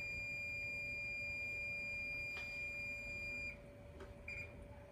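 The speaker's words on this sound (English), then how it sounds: "I put a timer on there so I knew when to put stuff in." A kitchen timer beeps while a seafood boil of shrimp, crawfish, tilapia and mussels cooks, a steady high electronic tone held for several seconds before dropping away, fairly faint against room noise.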